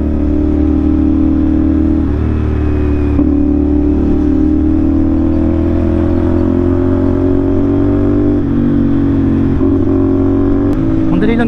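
A 2024 CF Moto NK450 with a 270-degree crank revs through a conical SC aftermarket pipe, a loud, steady, close engine drone rising and falling across several pitch shifts for the whole stretch.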